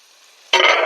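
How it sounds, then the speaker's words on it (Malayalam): Prawns with green peppercorns frying in a covered pan, a quiet stretch giving way abruptly to a loud, dense, steady sizzle that continues to the end. "ചെമ്മീൻ വെന്ത് വരുന്നവരെ നമുക്കൊന്ന് മൂടി വെച്ചേക്കാം"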